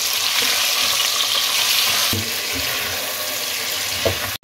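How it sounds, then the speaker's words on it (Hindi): About 700 grams of washed chicken pieces frying in hot oil in a pot for degi chicken korma, a loud steady sizzle with occasional stirring clatter and no talking. "अब चिकन को इसके अंदर फ्राई कर लें।"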